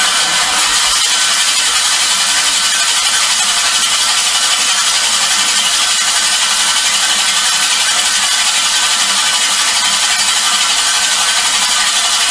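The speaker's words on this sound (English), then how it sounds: "You want to do this for about 7 to 10 minutes until it's you know, going pretty smoothly and not very loud," Fiskars StaySharp Max reel mower blades being sharpened with a maintenance kit: a steady, harsh, scratchy grinding hiss of the spinning reel against the cutting bar, continuous and loud for the whole stretch.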